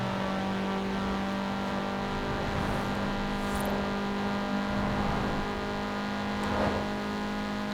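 A modified Audi S1 in Forza Horizon 4 drones with a steady, loud engine hum and tire noise, holding a constant pitch with slight surges.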